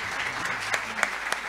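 An audience claps at a Ramadan Sufi music concert in Eyüpsultan, Istanbul: a steady burst of applause with a few sharper claps standing out, moderately loud, lasting under two seconds.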